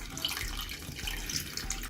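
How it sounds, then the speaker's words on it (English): A homemade revolving lotus tabletop water fountain runs steadily, its trickling, splashing water close and continuous with faint bright droplet plinks, then cuts off abruptly at the end. "it's a beautiful fountain and it creates a soothing sound"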